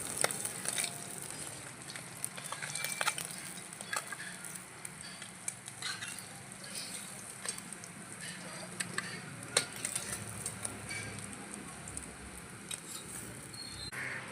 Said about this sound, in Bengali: মাছগুলো বেশ লাল লাল করে ভেজে নিয়েছি, এবার তুলে নেব।